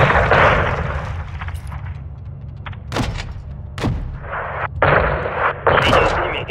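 In the Call of Duty Modern Warfare 2 video game, 40 mm cannon fire hits a building: several heavy booming shots and impact blasts land at irregular intervals over a continuous battlefield rumble.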